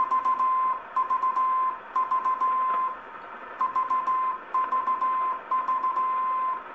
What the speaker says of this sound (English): I'll monitor my station transceiver, my ICOM 746, running into a dummy load. So this is with AGC on.